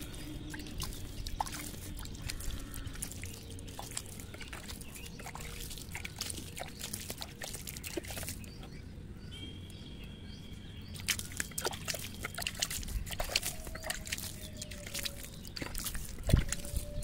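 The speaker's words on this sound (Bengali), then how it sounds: "জল দিয়ে দেবো।" Water trickles and sloshes onto freshly sown seeds covered with soil, a soft, steady pour that runs for the whole stretch at low volume with faint background noise.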